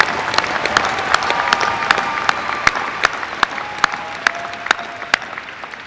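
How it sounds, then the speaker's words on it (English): A graduation ceremony audience at South Kitsap High School's 2023 commencement applauds steadily, a dense wash of many hands clapping with a few sharp, distinct claps standing out, sustained throughout. "let's give all these people a big round of applause"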